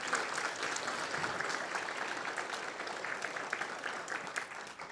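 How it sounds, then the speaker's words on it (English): A conference audience at an Alaska panel plenary claps in sustained applause, dense and even, from a crowd in a hall. "So can we give Selektuna a round of applause?"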